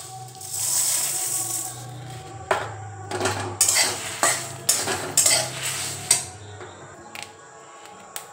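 Fenugreek seeds added to a hot pan for a sweet raw mango pickle made with jaggery, sizzling over a steady frying hiss as a utensil stirs and taps against the pan in quick irregular clatters.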